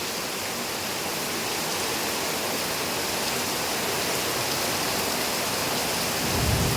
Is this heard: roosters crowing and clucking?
no